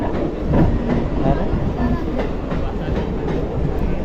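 A train rumbles steadily along the rails with a dense, continuous low roar and faint rhythmic clatter, heard from inside or close by, with some voices mixed in.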